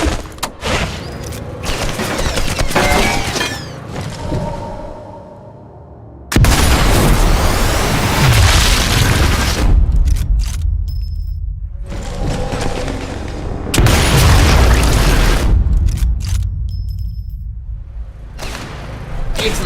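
Gunfire and heavy explosions in the shooter game Sniper Elite 4, with loud sustained bursts and booms separated by short quiet gaps, no voices.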